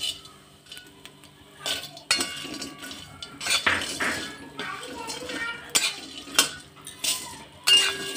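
Whole spices, including cinnamon pieces and pepper, are dry-roasted in a little oil in a pan for Khandeshi garam masala, with repeated scraping and metallic clinks of a spoon stirring and a voice talking throughout.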